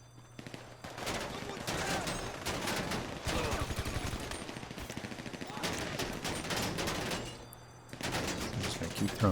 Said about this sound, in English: As you can see, I mean, they are just annihilating them with bullets.